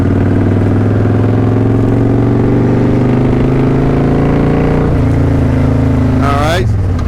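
A motorcycle engine pulls in second gear with a loud, close, steady droning hum. The pitch dips midway, then revs climb sharply near the end.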